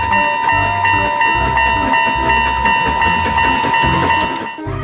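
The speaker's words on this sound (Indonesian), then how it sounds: "Ada kereta api Thomas." A Thomas toy train runs with a steady whirring motor and a high, continuous whine, close and loud, with voices nearby.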